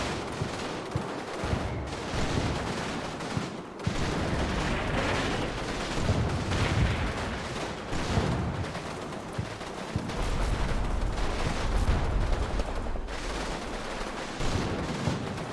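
Heavy WWII-style gunfire and explosions in Combat Mission as units blast a hedge line: sustained rifle and machine-gun bursts mixed with booming detonations, loud and continuous with brief lulls.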